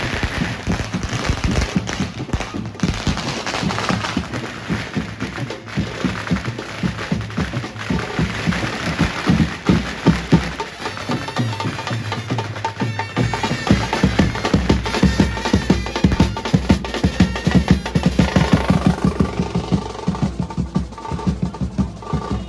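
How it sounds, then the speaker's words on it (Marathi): Firecrackers burst in dense, rapid crackling volleys during an Agri Koli wedding procession, loud and near, a continuous barrage of sharp pops that thins out near the end. "ये खाली फुटतात बॉम्ब."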